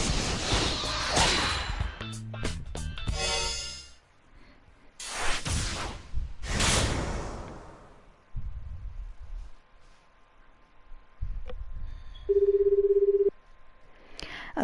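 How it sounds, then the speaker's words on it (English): Phone sounds from the video game 428 Shibuya Scramble: a character's cell phone dials a number, with quick clicks and whooshy interface effects, bursts of game music, and then a steady tone near the end. "Osawa picked up his cell phone and dialed Tanaka's number."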